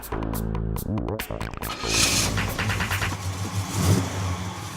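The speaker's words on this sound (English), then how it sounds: "The V8 engine noise, of course, is absolutely incredible" A Pontiac GTO's powerful V8 engine revs hard, throttle blips rising and falling into a deep, rumbling burble, loud and close with no talking.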